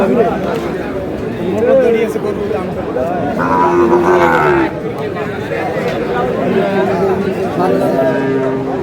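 Shahiwal bull calf lowing at a busy cattle market, a few drawn-out moos rising over constant crowd chatter and nearby voices bargaining.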